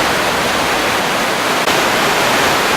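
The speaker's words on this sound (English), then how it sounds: "this whole section of the river has a big drop, so it's just kind of these rapids all the way down for a while" Rushing river rapids along a steep drop on a creek, a loud, dense and continuous wash of water noise with no pauses.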